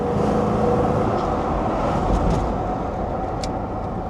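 A Chevy 5.7 V8 with a misfire code is held at full throttle, producing a loud, steady, broadband engine roar that continues unbroken with no talk.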